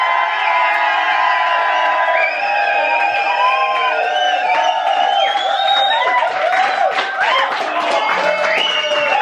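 A lively crowd at a gig in Sanders Yard, Whitby, cheers, whoops and shouts loudly close by, with scattered clapping and excited voices blending into a constant roar.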